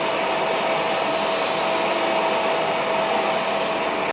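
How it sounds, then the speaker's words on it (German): A workshop vacuum cleaner, switched on automatically by a power tool, roars loudly and steadily with a constant whine, then cuts off abruptly at the end. "Alles, was hier angeschlossen ist, wenn da Strom rüber geht, erkennt das die Dose da unten und schaltet halt den Staubsauger sofort mit an."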